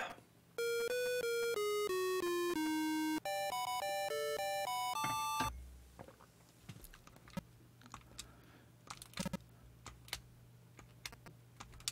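A Colecovision game plays a run of loud, clean electronic beeps stepping down and then up in pitch. Sparse clicks and soft taps follow in a quiet room.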